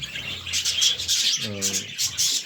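Caged German birds offered for sale chirp in quick, bright bursts, several short calls close by, joined by a brief lower rubbing or cooing sound midway.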